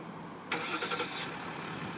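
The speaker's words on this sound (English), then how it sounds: "now I'm going to show you how the remote start works" A 2014 Jeep Grand Cherokee EcoDiesel 4x4 Overland diesel engine fires up via remote start, with a sudden cranking burst halfway through that settles into a steady, fairly close idle rumble, no voices.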